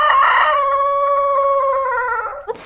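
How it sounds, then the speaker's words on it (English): A rooster crows loudly and close, one long sustained cock-a-doodle-doo that holds steady before cutting off, followed by a brief noise at the end. "we got woken up by this rooster, which was really, really loud"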